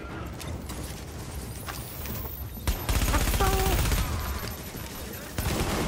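Artillery bombardment and bursts of gunfire rumble through a firefight in the video game The Division, dense and loud with a heavy low boom midway, while players talk over the din.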